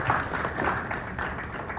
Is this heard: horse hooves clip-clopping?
no